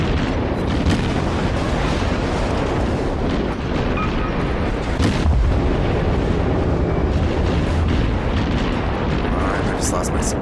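Russian cruiser guns firing with booming explosions in World of Warships naval combat, a dense continuous roar of blasts and rumbling impacts filling the whole stretch, loud and close, with a voice speaking over parts of it.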